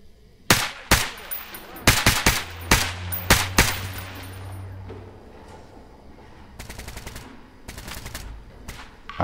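Bursts of gunfire from an enemy shooter in the game Stalker GAMMA, sharp loud shots in quick clusters over the first five seconds, then rapid distant-sounding volleys and a few later single cracks.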